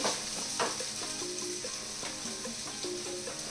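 Onions, two medium ones chopped and salted, fry in a pan with a steady broadband sizzle, while occasional stirring scrapes and soft clinks sound close by with no talking.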